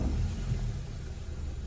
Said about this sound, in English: I'm gonna turn on the car